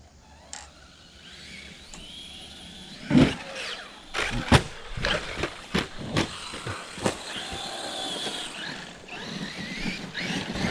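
A radio-controlled car on Revo tires drives across a front yard after landing a jump, its motor whining steadily while a run of sharp knocks and thumps from the chassis and the ground punctuate the middle stretch.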